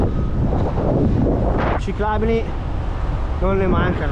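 Wind buffets the microphone in a constant low roar while cycling at a cruising pace of about 30 km/h on a road ride, with someone talking over it.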